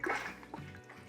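Pear cider poured into a fermenter gives a short, splashing gush of liquid that quickly tapers off, with no talking.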